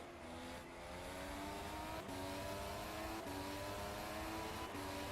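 A Formula 1 car engine in a racing video game at Zandvoort drones continuously at high revs, pitch climbing and dropping through repeated gear shifts, steady and fairly faint.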